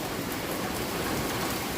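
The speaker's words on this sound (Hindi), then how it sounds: "कंटिन्यू वर्षा होचे।" Heavy continuous rain falls as an even, dense hiss with no breaks or voices.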